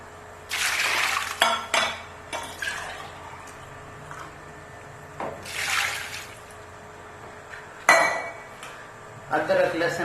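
Water poured from a glass over mutton in a pressure cooker on a stove, about two glassfuls, with clinks of dishes and pots and short splashy bursts between quieter pauses.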